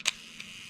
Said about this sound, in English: I obviously have a very slow shutter speed selected right now, which didn't sound very accurate